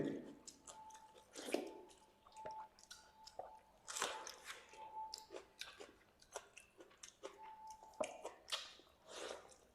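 Chewing panta rice, fermented rice, with mashed potato, close and wet, with soft squishy bites and smacks in an irregular rhythm, quiet and alone.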